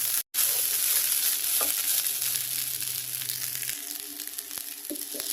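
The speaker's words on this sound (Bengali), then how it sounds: "আমি প্রায় 2-3 মিনিটের মতো এটাকে ভালো করে হাই হিটে ভেজে নিচ্ছি।" Rice for egg biryani fries on high heat in a pan, a continuous close sizzle with scattered scraping and clinks from stirring, broken by one brief dropout near the start.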